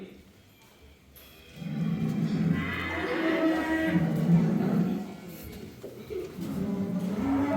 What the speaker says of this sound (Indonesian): Saat ini sedang dilakukan proses muat sapi untuk proses pengiriman ke kota Tangerang.